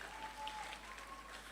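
Continuous church audience applause, soft and distant, a smooth wash of clapping that holds steady throughout.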